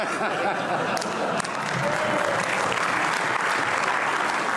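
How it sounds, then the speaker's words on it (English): A chamber of the European Parliament fills with dense, sustained applause from many members, steady and loud, with a faint voice beneath it. "That's the last time you are applauding here"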